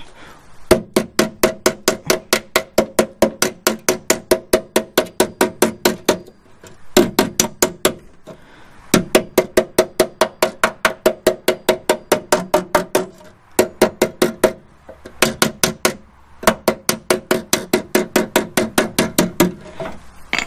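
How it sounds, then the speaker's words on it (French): A hammer gently taps a dented sheet metal panel in quick, steady bursts of light ringing blows, each run of strikes separated by short pauses, close and crisp. "et avec le marteau tout doucement"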